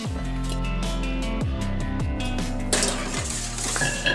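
Vegetables are placed onto a metal sheet pan for roasting, with a run of bright metallic clinks and clatters, some ringing tones, close and fairly loud, with no talking.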